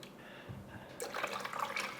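Water poured into the reservoir of a budget hydroponics growing system, a soft trickle that swells into a fuller, splashy gush of liquid filling the container, fairly close.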